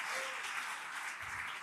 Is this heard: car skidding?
no